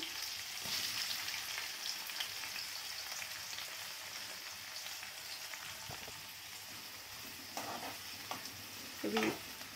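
Sliced onions sizzle and fry in a pan for a stuffed-eggplant masala curry, a steady soft crackle with occasional stirring clinks and scrapes, ending in a brief louder clatter.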